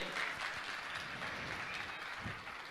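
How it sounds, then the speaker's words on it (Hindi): Dense, steady applause from a large audience at a Jain religious gathering, loud and continuous throughout with no voices over it, thinning slightly at the very end. "मैं चाहूंगा जोरदार ताली बजाकर इनका सम्मान करें।"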